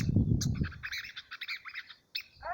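A masked water tyrant chick, snagged by a line in its own nest, gives a series of short, bright chirps in quick bursts, close and fairly faint, after a brief low rumbling handling noise at the start.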